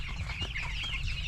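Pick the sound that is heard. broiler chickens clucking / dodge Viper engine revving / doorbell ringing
broiler chickens clucking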